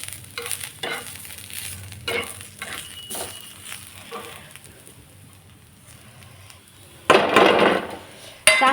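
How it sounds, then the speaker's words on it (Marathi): Spices for a mutton masala paste are dry-roasted in a pan, with intermittent scraping and stirring strokes, then a sudden loud burst of sizzling near the end. "चांगली भाजणी भाजून घ्यायची."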